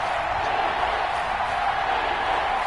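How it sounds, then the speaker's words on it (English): A stadium crowd in an American football video game gives a steady, even roar throughout, a dense wash of distant voices with no single cheer standing out. "The crowd getting into it as we come up on a big third down"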